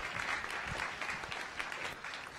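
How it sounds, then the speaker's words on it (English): A science cafe audience claps steadily after a talk on bird species at risk from climate change, a dense, even roomful of hands sustained throughout without a break. "Let's give him a round of applause."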